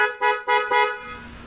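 Three short, loud honks from newly fitted aftermarket car horns on a Scion/Corolla iM, rapid blasts close by followed by a fading tail, with no talking.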